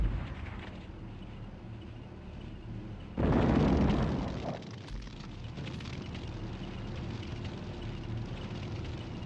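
An artillery gun fires in the Sudden Strike war game, one loud booming blast partway through that fades into a low rumble over steady background battle ambience.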